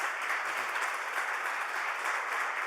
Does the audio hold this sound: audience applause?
yes